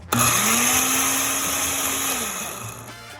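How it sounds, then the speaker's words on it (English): A blender whirs loudly at its highest setting, blending tomatoes for salsa for a couple of seconds, a steady motor whine, then spins down and stops. "I'm gonna go ahead and start blending this on the highest setting"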